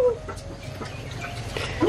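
Free-roaming chickens in a Vietnamese highland village cluck close by in short, scattered calls, with a louder burst at the end and faint ambient noise beneath.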